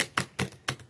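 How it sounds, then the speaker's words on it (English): A pink tarot card deck is shuffled by hand, giving four sharp, close snaps of cards slapping together at a quick, even rhythm. "I'm going to be using my pink tarot deck, and this is the first time that I'm shuffling them"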